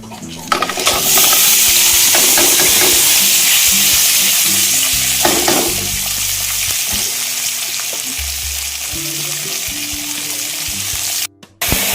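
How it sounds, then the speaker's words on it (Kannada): Spices frying in hot oil in a pan for a Malabar spinach sambar, a loud steady sizzle throughout with occasional stirring scrapes and a brief drop near the end. "ನಾನು ಬಾಣಲಿ ಇಟ್ಟಿದ್ದೀನಿ, ಸ್ವಲ್ಪ ಆಯಿಲ್ ಹಾಕ್ತಿದ್ದೀನಿ. ಅದಕ್ಕೆ ನಾವು ಹೆಚ್ಚಿಟ್ಕೊಂಡಿರೋ ಅಂಥ ಮಸಾಲೆಗಳೆಲ್ಲ ಹಾಕ್ಕೊಂಡು ಹುರ್ಕೊಳ್ಳೋಣ."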